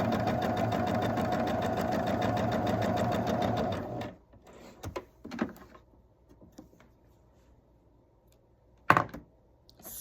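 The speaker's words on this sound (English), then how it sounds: "And sew away." A sewing machine stitching a quilt block hums loudly and evenly for about four seconds, then falls silent, leaving scattered soft knocks and one sharp clack of fabric and tools being handled.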